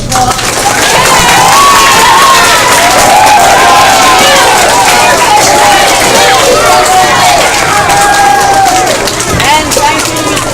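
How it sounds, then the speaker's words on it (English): A school audience claps and cheers loudly and continuously for a first grade play at the Ponte Vedra Beach campus, a dense crowd roar with whoops and shouts over sustained applause. "The first grade, another round of applause."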